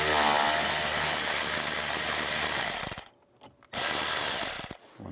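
Ratchet with a 7mm socket backing out panel screws under the steering wheel of a 2011-2019 Ford Explorer, close, rapid clicking and grinding for about three seconds, a brief lull, then another short burst.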